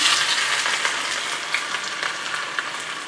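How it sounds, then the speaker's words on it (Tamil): Soft, bright sizzling of ginger frying in hot ghee, a steady crackle with a few small pops, no voices. "இஞ்சி நல்லா பொரியட்டும்"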